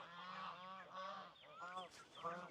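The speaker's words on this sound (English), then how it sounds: "don't go over there with those geese" Geese honk in a quick run of loud, nasal calls close by, several overlapping squawks coming in two or three bursts with no talking over them.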